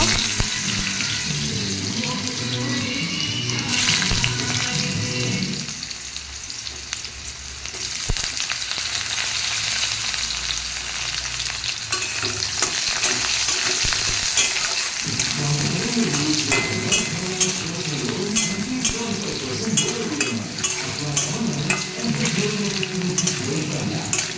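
Potatoes frying in a pan for okra chorchori, a loud continuous sizzle with a brief quieter stretch and occasional stirring scrapes.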